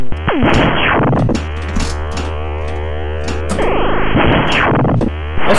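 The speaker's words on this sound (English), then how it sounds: "love the sound when they hit the those drop targets." Drop targets being hit on a virtual Gottlieb Alien Star pinball table (1984) set off loud, distorted electronic explosion effects with sweeping tones and mechanical clacks, continuous and close.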